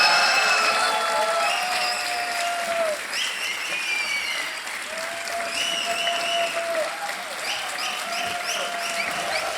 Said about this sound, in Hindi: और तालियां बज जाए इनके लिए जोर से.